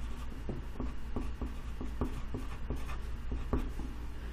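Marker or chalk strokes on a board while a math problem is worked out, a series of short, regular scratchy strokes about every half second over a steady low room hum, with no talking.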